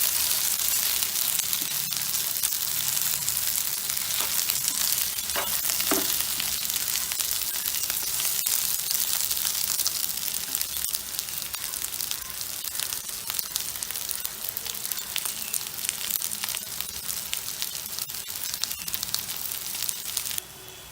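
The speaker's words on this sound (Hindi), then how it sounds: "इसी तरह पकाते रहें, तो चलाते रहें जब तक ये पक ना जाए।" Food sizzles steadily in a hot pan for a vegetarian Indian recipe, a dense, even crackle of frying with faint scrapes from occasional stirring throughout.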